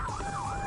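A police car siren wails during a pursuit, heard from the car's own vantage: a steady rising and falling electronic tone over road noise.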